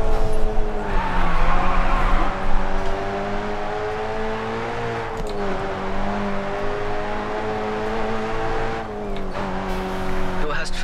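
A Subaru drifting in the racing game Grid 2, its tires squealing in long sustained howls over a loud, steady engine drone, with someone talking on top of it.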